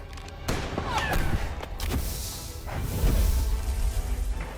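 Gunfire and whooshing blasts from Marvel Midnight Suns during a bridge fight, scattered shots and swishes over a low rumbling game score with brief voice sounds mixed in.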